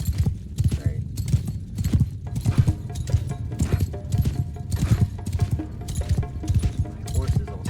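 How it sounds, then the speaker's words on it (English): Horse hooves clip-clopping in the video game Mount & Blade Shokuho, a slow steady run of thudding hoofbeats with occasional whinnies, fairly loud and continuous over nearly eight seconds. "My horse is also very, very slow."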